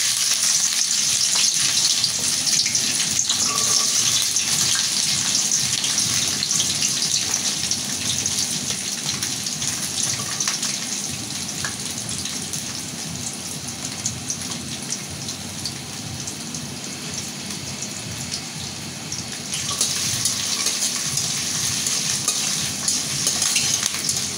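Garlic frying in a pan as the first step of a Bangladeshi chepa shutki bharta, giving a steady, dense sizzle that stays loud throughout and swells again near the end, with no talking.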